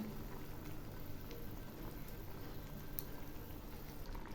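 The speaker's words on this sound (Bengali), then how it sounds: "ঝোলগুলো আরও কিছুক্ষণ ফুটবে" Bengali fish curry simmers and bubbles in a pot, a faint, steady low bubbling and popping that runs without pause, with no voices.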